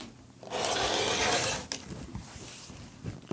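A rotary cutter slices along a ruler to trim the selvage edge off a fabric strip set for a gingham quilt, giving one steady broadband rasp lasting about a second, then quieter handling scrapes and taps.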